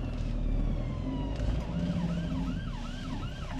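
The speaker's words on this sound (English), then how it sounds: "Ambulance coming." An ambulance siren wails in a rising and falling pattern as it passes along a road near a fishing match venue in Telford, loud over steady traffic and outdoor rumble.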